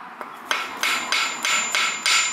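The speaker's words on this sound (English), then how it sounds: "Just take a little hammer and you give yourself a little tap." A small hammer taps along the edges of a freshly painted 5.3 LS engine block, five or six light, evenly spaced metallic taps ringing close and clear with no talking.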